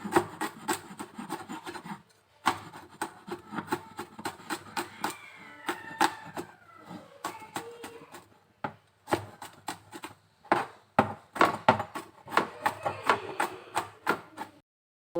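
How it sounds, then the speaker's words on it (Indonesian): An onion is chopped finely with a knife on a board, giving quick rhythmic bursts of close, sharp taps that run steadily with a brief pause near the start, and no talking. "Bombaynya kita cincang halus dulu."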